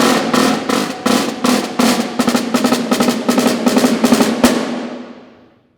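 A snare drum plays buzz roll bases in a steady, pulsing pattern of dense buzzing strokes, each group sharply accented, closing with a final stroke that rings out and fades.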